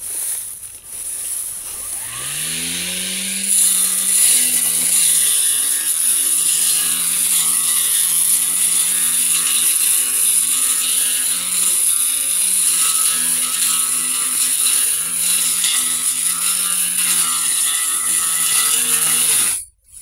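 An electric lawn mower spins up and runs continuously while cutting grass, a loud close whine with a steady mechanical rattle, winding down sharply at the very end.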